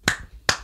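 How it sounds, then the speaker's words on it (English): Two sharp hand claps about 0.4 seconds apart, close and fairly loud, during a podcast conversation, with no talking over them. "You don't have to applaud."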